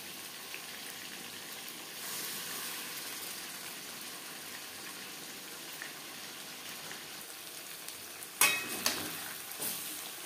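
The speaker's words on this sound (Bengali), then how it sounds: "চিকেন উল্টে পাল্টে ভেজে নেব" Chicken pieces fry in refined oil over a high gas flame, a soft steady sizzle, with louder clattering stirs and turns of the meat near the end.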